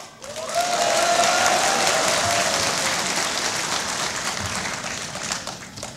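Sustained crowd applause at a 2012 political campaign rally in Gwangju, dense clapping swelling quickly and holding steady for several seconds with a faint whistle-like cheer rising over it, no speech.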